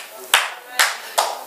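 Three sharp, isolated hand claps spaced roughly half a second apart, loud and close, with a faint murmur underneath, from a church congregation during a sermon.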